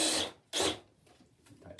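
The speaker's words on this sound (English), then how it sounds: "So I got my my Fastener bit ready." A power drill fitted with a fastener bit drives a screw into a wooden garden flower basket, with two short loud whirring bursts followed by quieter, lower grinding as the screw tightens.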